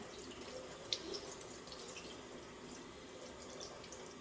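Faint, steady running water flows from a tap as a raw salmon fillet is rinsed on its skin side, with a soft splash near the start and no speech.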